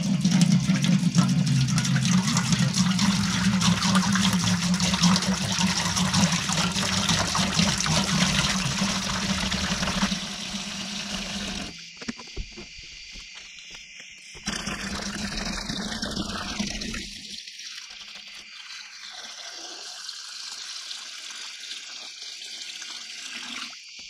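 Tap water gushes steadily into a pot for a homebrew pale ale batch, a full rushing flow for about ten seconds that then cuts off, leaving quieter splashing, trickles and drips.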